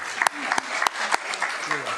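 Scattered applause for county supervisors at a swearing-in ceremony, a handful of distinct claps spaced irregularly under continuing talk and crowd voices, moderately close.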